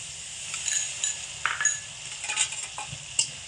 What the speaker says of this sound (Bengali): এবার হালকা আঁচে রেখে সমস্ত মশলাপাতি খুব ভালোভাবে একটু কষিয়ে নেব